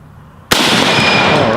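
Rifle fire at close range: a sudden loud crack at about half a second gives way to a sustained, dense roar of rapid shots that continues to the end without a break.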